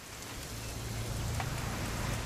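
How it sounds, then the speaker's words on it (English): Steady rain patters in the video game What Remains of Edith Finch, an even hiss of falling drops with a low rumble underneath, with no voices. "It's gonna rain the whole weekend"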